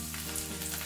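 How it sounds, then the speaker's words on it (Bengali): Carrots, cauliflower and beans fry in hot oil, giving a steady close sizzle with faint crackles throughout a brief moment and no voices. "টমেটো আর কড়াইশুঁটি বাদে গাজর, ফুলকপি আর শিমটা আমি একটু ভেজে নিচ্ছি।"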